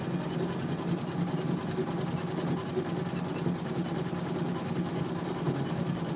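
A Janome 550E sewing machine stitching steadily, a continuous even mechanical whirr with a fine rapid needle rhythm, close and moderately loud throughout with no talk.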